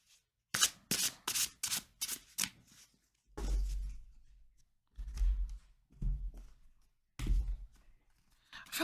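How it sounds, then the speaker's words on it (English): Tarot cards are shuffled in quick bursts, a rapid run of riffling flicks followed by slower rubbing and sliding passes with short pauses between them, close and fairly loud, with no talking. "I feel like that was an awful lot of shuffling for you."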